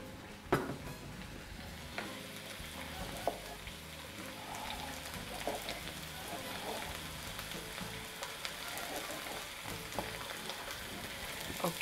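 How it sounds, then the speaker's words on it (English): Red onions frying for chili con carne are stirred in a pan, with a steady sizzle broken by scraping utensil strokes close to the mic, no voices heard. "now I'm going to stir this up a little bit."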